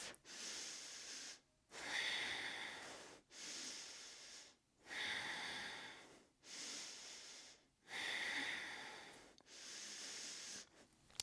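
Slow, deep breaths during a power vinyasa yoga pose, a close, airy exhale-and-inhale rhythm repeating about six times with short silent gaps between them.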